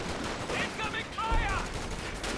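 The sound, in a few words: zeroing artillery shells landing in video game Company of Heroes 2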